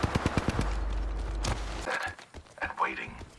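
Rapid bursts of video game gunfire, a fast string of sharp, loud shots in the first half second followed by a sustained roar, with a player talking and further in-game sounds afterward.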